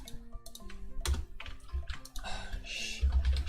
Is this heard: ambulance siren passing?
no